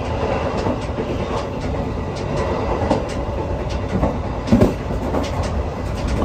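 A passenger train runs along the rails with a steady, loud rumble and a rhythmic clickety-clack of the wheels. There is a louder clank near the end.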